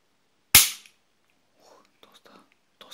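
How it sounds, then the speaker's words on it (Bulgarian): An old cap pistol from a weapons collection fires a single sharp, loud crack, followed by faint, soft handling clicks and rustles. "И изстреля, запушете си ушите."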